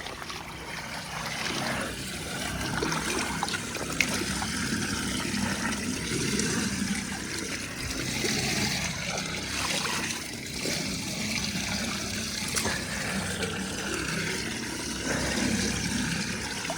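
Floodwater drains away and trickles steadily at close range, a continuous watery burble with small splashes and no voices.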